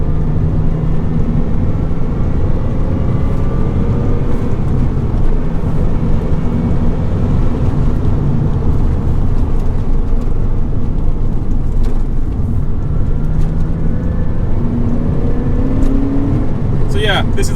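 A Porsche 996 drives steadily along a bigger road, a faint rising and falling gearbox whine sitting above a constant loud rumble of engine and road noise.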